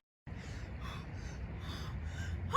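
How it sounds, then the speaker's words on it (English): Rapid, hard breaths in and out, each quick and forceful, repeating in a steady rhythm and growing slightly louder toward the end. "I was breathing in and out super hard"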